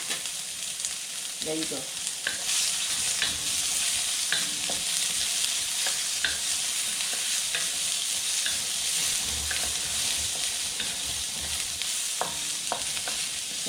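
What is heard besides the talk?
garlic frying in hot pan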